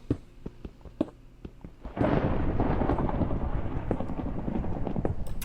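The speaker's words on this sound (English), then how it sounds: "it's thundering up there" Thunder in the video game Minecraft during survival play: a few soft clicks, then a sudden loud, broad rolling rumble that continues steadily to the end, with no talking.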